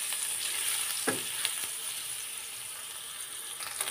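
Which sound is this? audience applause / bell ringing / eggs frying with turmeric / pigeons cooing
eggs frying with turmeric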